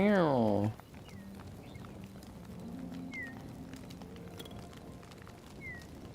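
A single loud, drawn-out cat meow at the start, followed by quiet background ambience with a few faint chirps.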